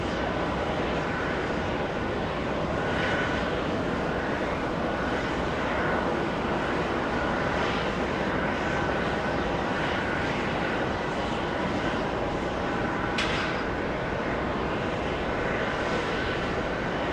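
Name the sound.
Avianca Airbus A319 departing JFK to Bogota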